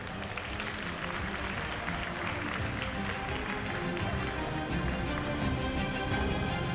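Steady applause from the audience at a Tarentaise cattle breed show, a dense continuous wash of clapping in a crowded hall that holds even throughout.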